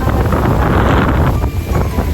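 Strong gusts at Boracay during typhoon weather roar loudly into the microphone, a close, rumbling buffet of wind that surges and eases slightly.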